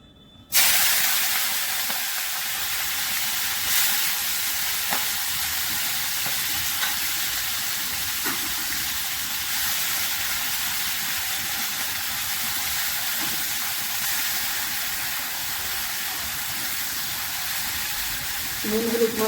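Prawns rubbed with salt and turmeric sizzle steadily in hot oil in a wok, a loud, continuous frying hiss with occasional faint stirring sounds.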